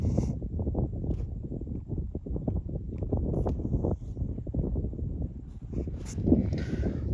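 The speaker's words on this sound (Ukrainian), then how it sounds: "Вибачайте за вітер." Steady low, rumbling wind buffets the microphone throughout, a continuous gusty roar with no clear pauses.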